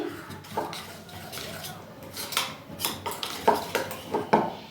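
Semolina batter being whisked in a bowl for steamed vapa pitha, a series of close, sharp utensil clinks and scrapes against the bowl's side, coming in quick bursts that grow louder toward the end.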